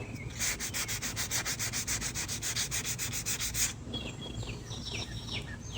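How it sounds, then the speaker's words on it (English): Rhythmic sanding strokes rasp steadily across a painted wooden rocking chair, a fast even back-and-forth scrub for most of the span before stopping, with birds chirping faintly outdoors afterward. "That's why it's easier just to sand it off."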